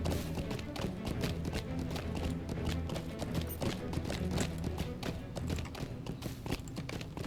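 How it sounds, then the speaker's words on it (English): Rapid, steady hoofbeats of a horse at a fast gait, continuous thudding clip-clop with a busy background and no speech. "I guess you could hear the hoofs of my horse."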